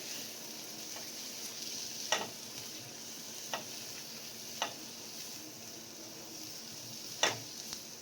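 Vegetables and masala for a paneer roll stir-fry in a pan, a soft steady sizzle with occasional light clicks and scrapes of a spoon against the metal, fairly faint and without voices.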